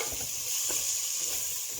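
Diced potatoes and carrots sauté in a hot pan, giving a steady, close sizzle and hiss with a faint stir, and no voices.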